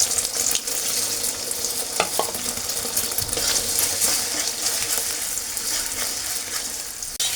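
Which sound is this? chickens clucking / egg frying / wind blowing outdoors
egg frying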